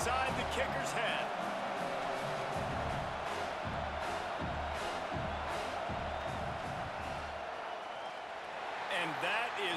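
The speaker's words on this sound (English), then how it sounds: "This crowd trying to do its part to get inside the kicker's head." Stadium crowd in an NCAA college football video game roars steadily through a field goal attempt, a dense continuous wash of cheering and noise under a commentator's talk.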